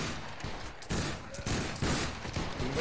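Musket volleys sound in the video game Battle Grounds III during a line battle, a ragged fusillade of overlapping shots crackling in several uneven waves, moderately distant and with no clear speech.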